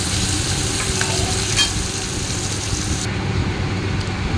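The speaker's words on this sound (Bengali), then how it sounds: "পেঁয়াজটা লাল লাল করে ভাজবো" Onions frying in a pan for a chicken dish give a steady, dense sizzle with faint stirring scrapes, close and fairly loud throughout, with no talking.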